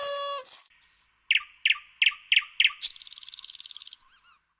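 Cartoon nightingale song in an animated children's learning game: a quick series of bright chirps and a fast trill, loud and close, with no talk.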